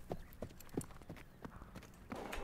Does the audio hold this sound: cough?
no